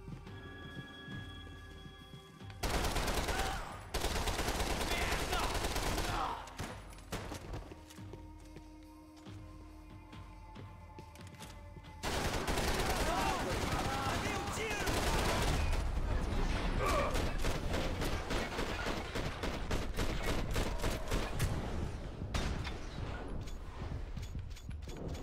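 Heavy gunfire in the video game Max Payne 3, dense bursts of shots and crackling impacts dominating the mix, loud and sustained with brief lulls, under game ambience and occasional voices.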